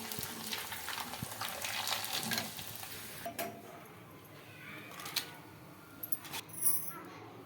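Ragi papads frying in oil, a soft crackling sizzle with stirring and scraping clicks, quiet and close, with a few sharper taps toward the end and a person speaking intermittently.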